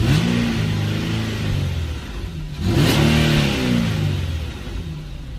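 An Infiniti G37 engine revs up twice during an idle relearn after spark plug replacement, rising and falling in pitch with a steady hum between, loud and close.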